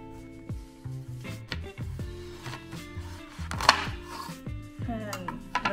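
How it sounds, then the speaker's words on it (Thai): A knife cuts fruit and seeds are scooped out with clacking on a board and utensils, giving a run of sharp, close taps and scrapes at an uneven pace with no talking. "หั่นแล้วก็ควานเอาเม็ดออก"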